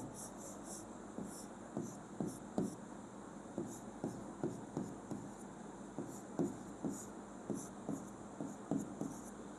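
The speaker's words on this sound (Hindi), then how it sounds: "सबसे पहले हम लोग पूरी प्रोसेस लिखते हैं" Marker or chalk writing on a board during a chemistry lesson gives a steady series of short scratchy strokes and taps in an irregular rhythm, fairly close, over a faint background hiss.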